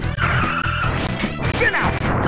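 A race car spins out in the SNES game Rock n Roll Racing: a short burst of loud synthesized tire screeches and crunching impact noises over a busy game soundtrack, with a sliding whine near the end.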